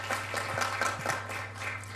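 Applause from an audience at a women's conference in Skopje, a brief patch of scattered clapping heard from a distance under a steady hum.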